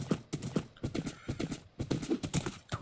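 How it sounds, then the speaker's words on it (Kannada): Horse hooves clip-clop in a steady rhythm while riding in the Minecraft video game, the close, evenly spaced hoofbeats running without a break and with no talk. "ಕಮ್ಮನ್ ಕುದುರೆ ಕ್ಯಾನ್ ಡು ಇಟ್."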